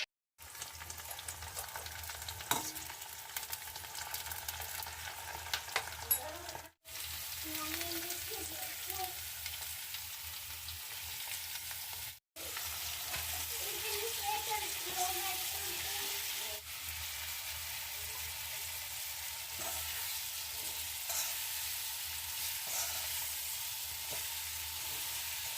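Bitter gourd frying in mustard oil in a pan, a steady loud sizzle with intermittent stirring scrapes, continuing with two brief cutoffs and no talking.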